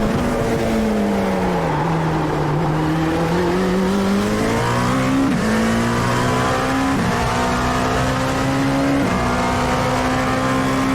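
A Dallara P217 prototype race car engine at Suzuka in iRacing drones loud and steady at high revs, pitch dipping and rising through corners with brief gear-shift steps, continuous and alone.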